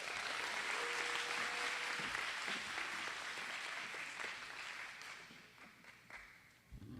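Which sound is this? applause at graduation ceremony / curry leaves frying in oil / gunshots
applause at graduation ceremony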